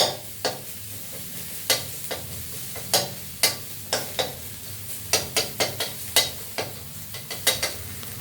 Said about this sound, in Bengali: হালকা হালকা বেশি লালও করবো না হালকা ভেজে নেবো